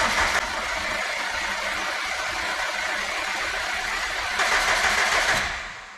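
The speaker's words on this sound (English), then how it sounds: "I'm going to disconnect the crank sensor so we can turn it over without it trying to start." A Subaru Impreza STI engine, a newly fitted unit with the crank sensor disconnected, cranks over steadily on the starter without firing, a continuous whirring drone that swells slightly near the end before winding down.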